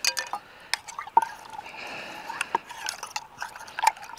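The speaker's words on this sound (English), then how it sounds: "put a bit of water in there. Just grab it on that spoon, give it a rinse like that." A metal spoon is rinsed with a little water in a camping brew-kit cup, giving soft sloshing and several sharp clinks against the cup, close and fairly quiet.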